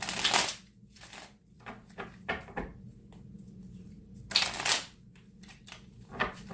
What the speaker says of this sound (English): So give it a real good shuffle here.